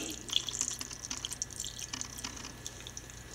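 Water is poured from a tap or vessel over pineapple pieces in a pot for pachadi, a quiet, close trickle with small drips and splashes, alone without talk.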